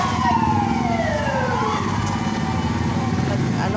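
A wailing fire engine siren, loud and close, sweeping down in pitch over steady traffic rumble at a hospital fire in Mandaluyong.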